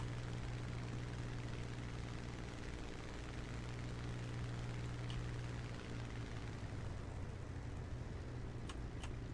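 A steady, loud propeller aircraft engine drones without a break in a War Thunder air battle, a constant mechanical hum with a faint high whine over it and no talk.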